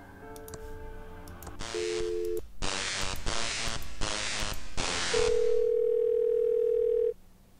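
A telephone dial tone in the Thimbleweed Park video game: steady held tones broken by a few short, bright bursts like keypad presses, then a long sustained tone that cuts off near the end, clear and alone.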